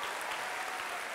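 Steady applause from a studio audience on a Turkish TV talk show, a dense wash of clapping sustained throughout without any talking over it.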